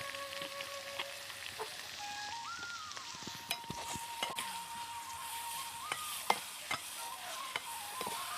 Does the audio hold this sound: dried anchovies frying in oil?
yes